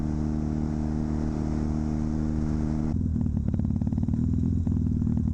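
A Kawasaki KZ400 tracker motorcycle engine runs steadily on a ride, first with a smooth tonal hum, then dropping into a rougher, throbbing low idle that pulses evenly and close.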